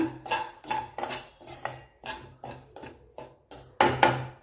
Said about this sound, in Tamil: ஒரு கடாய் எடுத்துக்கலாம் நம்ம எடுத்து வச்சு அந்த கோதுமை ரவையை சேர்த்துக்கலாம்